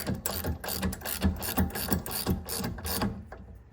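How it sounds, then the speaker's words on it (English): A bolt on a Badlands 1.5-ton off-road jack is tightened with a ratchet, giving a quick run of about seven evenly spaced clicking strokes, close and clear with no talk. "And then just tighten up that bolt."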